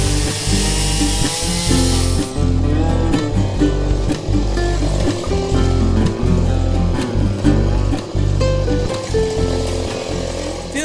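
A chainsaw cuts firewood logs, loud and close. A high buzzing opening gives way to a rough, pulsing bite through the wood, with the engine pitch bogging and recovering over and over.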